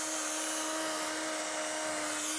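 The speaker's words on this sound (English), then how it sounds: "using the polishing pad on a drill just makes it go a little bit quicker" A drill spins an orange polishing pad against an alloy wheel, producing a steady, loud high-pitched whine with a constant tone throughout and no talking.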